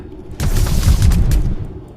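An explosion in a Roblox game comes as a loud, booming burst with a deep rumble. It swells quickly, holds with crackling noise for about a second, then fades out.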